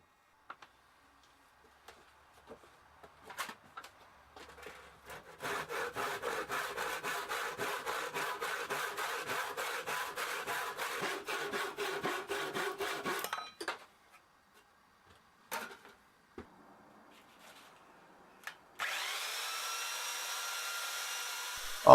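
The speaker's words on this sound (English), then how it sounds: "After sawing off the corners" A hand saw cuts the corners off a block of glued-together boards, three inches thick and about 7.5 inches wide, with about eight seconds of steady back-and-forth strokes. A few knocks follow, then a power sander whirs up near the end.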